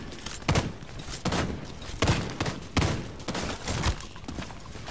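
Mortar fire in The Division 2 video game: a series of heavy blasts and thumps arriving roughly every second, loud bursts over a rumbling battlefield background.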